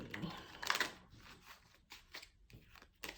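Soft papery riffling and brisk shuffling bursts of a deck of tarot cards, close and fairly quiet, with small gaps between shuffles.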